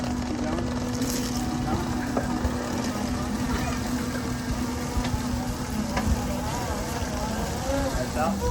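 A boat's outboard motor runs steadily close by with a constant drone, while people talk over it and water and wind rush in the background.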